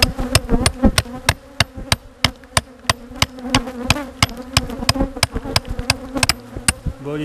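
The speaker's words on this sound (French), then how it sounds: "Essayer d'enlever les abeilles." Buzzing honeybees hum steadily while sharp, evenly spaced knocks or taps repeat loudly over them.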